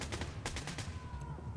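Several quick gunshots in the shooter game The Division 2, a short burst of mid-distance shots over a constant low background hum, fading into quiet.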